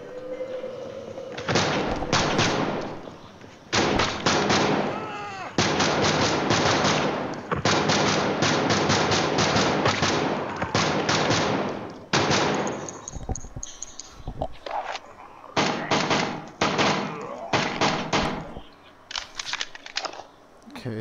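Gunfire from the VR zombie shooter Death Horizon: Reloaded comes in bursts of sharp, loud shots with short gaps, and a player talks briefly between volleys.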